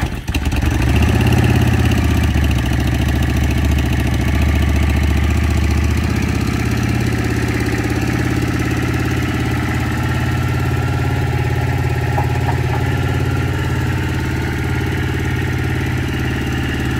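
A motorcycle engine idles steadily and loudly up close after a choke start, a low even throb that runs throughout with a slight drop in pitch after the first few seconds.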